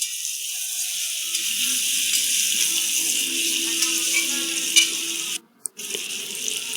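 A spoon scrapes and rattles steadily in a pan while turmeric powder, salt and black salt are stirred in, making a continuous close, gritty rasp with a brief clatter near the end.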